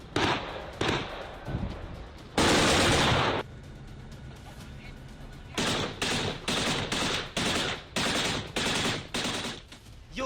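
Repeated bursts of gunfire at the Ukraine–Russia border, rapid cracking volleys and a long sustained blast, loud and close, separated by brief quieter gaps with no talking.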